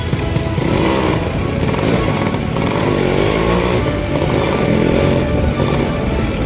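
A modified Yamaha RX135 two-stroke motorcycle revs loudly up close, its raspy engine note rising and falling continuously as the throttle is worked.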